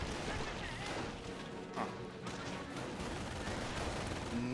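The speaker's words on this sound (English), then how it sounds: "These guys are getting shot at now." Continuous gunfire crackles in Company of Heroes during the Normandy invasion, a dense, steady wash of rifle and machine-gun fire at moderate distance with no pauses.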